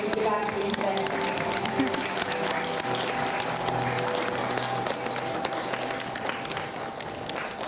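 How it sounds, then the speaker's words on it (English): An audience claps at a Lolita tea party event in London, dense applause lasting throughout with voices mixed in and a faint musical tone in the background. "We have a round of applause for a very, very professional and amazing audience"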